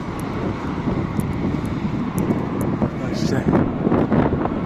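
A fixed-wing airplane taking off, its engine roar a steady broad rumble growing slightly stronger over several seconds, heard outdoors in wind with faint voices and background activity.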